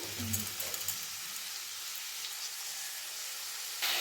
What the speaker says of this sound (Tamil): நல்லா ஆனியன் வதக்குற அளவுக்கு நல்லா எண்ணெய் ஊற்றி வதக்குங்க